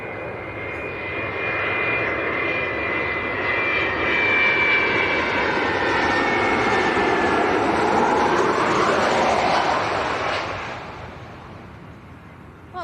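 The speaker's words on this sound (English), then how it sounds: "One of the old 300 series is doing the Izmir flight." An older 300-series Jet2 jet on the Izmir route passes near Leeds Bradford Airport, its engine roar building to a loud sustained rumble with a whining tone, then fading as it moves away.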